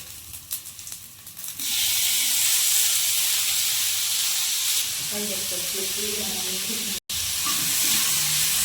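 Curry leaves and tomato hit hot oil in a pan for Mangalore-style chicken puli munchi, bursting into a loud, steady sizzle that holds on after a quieter start, with faint voices and clatter in the background.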